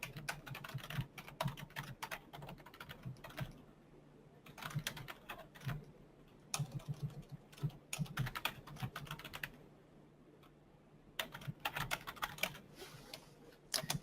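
Typing on a computer keyboard to write a message in a church communication app, with bursts of rapid key clicks separated by short pauses, close and clear, with no talking.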